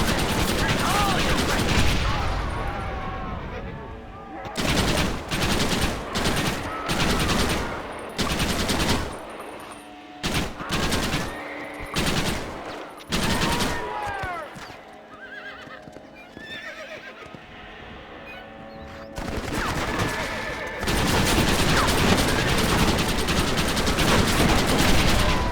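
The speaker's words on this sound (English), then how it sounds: "Again, they have their own Gatling gun." Gatling gun fire in the Western video game Red Dead Redemption, loud stuttering bursts of rapid shots mixed with horse whinnies and hoofbeats in a dense, noisy game soundtrack.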